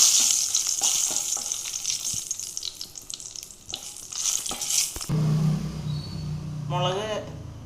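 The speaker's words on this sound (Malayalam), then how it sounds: "വെളിച്ചെണ്ണ ഒഴിച്ചതിന് ശേഷം ഓരോ സാധനങ്ങൾ ആദ്യം മുഴുവൻ മുളക് ഇട്ട് വഴറ്റിയെടുക്കണം" Whole dried chillies sizzle and fry in hot coconut oil in a pan, a steady loud crackling hiss with stirring scrapes, then a louder burst of frying midway, while a voice talks over it.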